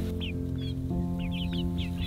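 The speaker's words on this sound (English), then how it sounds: "we're getting ready to let these chicks out for the first time" Young chicks, among them a gold or blue laced variety, chirp and cluck repeatedly in quick, high little calls as they leave the coop, close by over a steady low mechanical hum.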